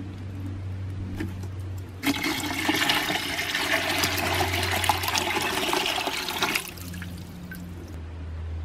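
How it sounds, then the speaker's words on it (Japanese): Water gushes steadily for several seconds into a portable mini sink, a rushing pour that starts abruptly and cuts off, with a low hum before and after. "中に水を入れます。"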